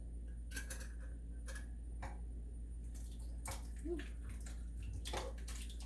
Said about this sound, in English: the last thing we're adding before we mix it all together and turn it on is one big can, 28-ounce can of diced tomatoes